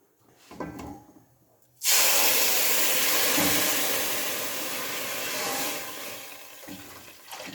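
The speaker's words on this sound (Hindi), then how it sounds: "अब हम इसमें दूध डालेंगे।" Milk pours into a hot pan of golden-brown fried vermicelli with a sudden loud, sustained sizzling hiss. Soft handling noises come first, and the hiss gradually eases over several seconds.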